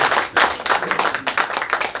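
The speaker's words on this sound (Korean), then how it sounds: "없으시면 박수로 좀 주세요." Audience clapping at a civic launch ceremony at a city hall, a fairly close burst of hand claps with an uneven, pulsing rhythm filling the whole moment.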